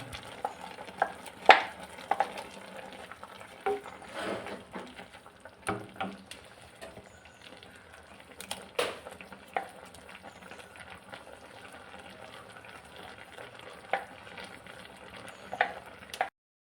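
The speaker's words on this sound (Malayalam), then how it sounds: "ചേർത്തെല്ലാം ഒന്ന് ഇളക്കി മിക്സാക്കി എടുക്കുകയാണ് ചെയ്യുന്നത്." Ground coconut paste being stirred as it fries in a pan for an Onam sadya dish, with steady sizzling under repeated scraping spoon strokes and occasional louder clanks against the pan, no talking.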